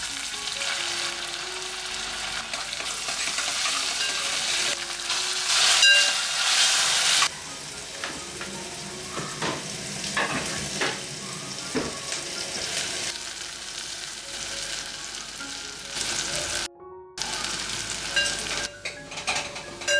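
Dal tempering (phodni) sizzling in hot oil: a steady, loud, close hiss and crackle, with a few stirring clatters and a brief break near the end, and no voices.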